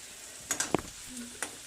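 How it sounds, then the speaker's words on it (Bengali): Onion and garlic fry lightly in a pan with a quiet sizzle, broken by a few soft stirring scrapes and clicks. "পেঁয়াজ আর রসুনটা একটু হালকা ভাজা হয়ে গেলে দেবো টমেটো।"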